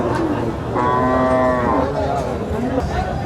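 A cow at a busy cattle market gives one loud, close moo lasting about a second amid a murmuring crowd in the background.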